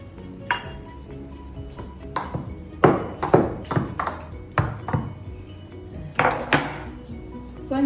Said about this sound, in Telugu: రోకలతో ఇట్లా దంచాలండి, మెత్తగా అవుతుంది.